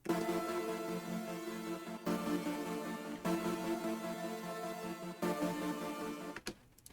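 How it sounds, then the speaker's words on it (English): Two synths play together in a beat, a gated synth layered with a second synth, as sustained bright tones chopped into sections of a second or two, ending in a brief noisy burst. "And then those two together sound like this,"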